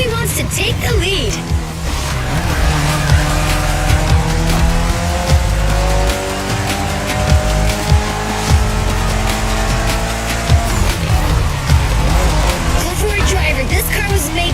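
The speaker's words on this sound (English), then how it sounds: "Everybody's car is on top of their game, especially your new ride, Toji's Mitsubishi Lancer Evo X." A Mitsubishi Lancer Evo X races in the video game The Crew Motorfest, its engine droning loud and steady with rising and falling pitch, tires squealing through corners as other cars roar close by.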